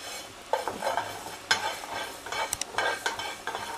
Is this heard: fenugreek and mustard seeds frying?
yes